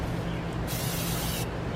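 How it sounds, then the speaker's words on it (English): Cooking spray hisses from an aerosol can onto seasoned chicken for an RV bourbon barbecue dish, a steady close spray that swells louder in one sustained burst before easing off, with no talking. "So just put a little pan spray on there just to keep it from sticking"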